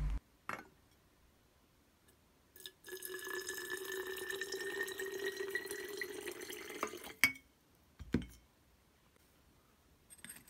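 Acetic acid is poured into a glass container while copper(II) acetate is being made from copper metal, giving a steady liquid pouring and trickling sound of about four seconds. It is framed by brief clinks of glass before and after.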